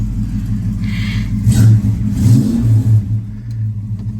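A Dodge Dart engine idles with a low, steady rumble and revs up briefly a couple of times, loud and close inside a garage.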